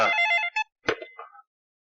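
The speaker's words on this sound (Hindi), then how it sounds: "ओह, ये बेवक्त का फोन आ गया।" A telephone bell rings in short bursts, with a pause between rings, clear and close, with no voices.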